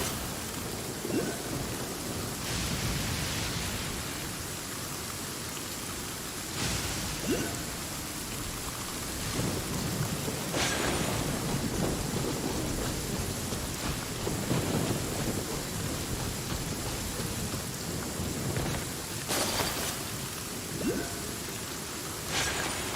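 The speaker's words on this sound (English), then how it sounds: "Let us find shelter from the rain." Steady rainfall in Genshin Impact fills the scene with a constant hiss, broken by several sharp thunder cracks and rolling booms spread across the stretch, with no voices.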